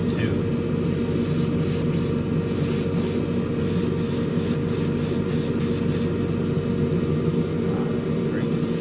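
An airbrush sprays flat black paint thinned with Tamiya X20A onto parts for a Revell 1971 Boss 351 Mustang model kit, giving a continuous hiss broken by short rhythmic pauses as the trigger is worked, over a low background hum.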